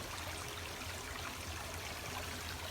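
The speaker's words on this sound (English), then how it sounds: "We've come to Moccasin Creek." Moccasin Creek flows along a hiking trail in northwest Florida, a steady, soft wash of running water with no break and no voices.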